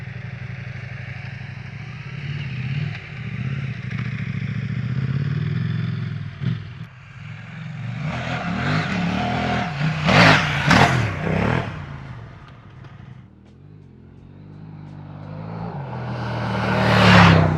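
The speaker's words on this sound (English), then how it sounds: "they have the RS4 exhaust slip-on for this bike. It right away sounds just more meaty, deep, sounds really good." KTM 890 Adventure R motorcycle with an RS4 slip-on exhaust, its deep engine note rumbling steadily and then rising in several sharp revs before easing off and swelling again near the end, with no talking.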